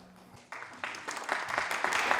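Audience applause at a talk on creative community, beginning with a brief tone and then clapping that starts around half a second in and grows steadily louder.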